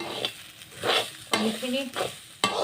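Food sizzles and fries in a pan while a utensil stirs and scrapes it in short repeated strokes, close and moderately loud, with someone speaking briefly over it.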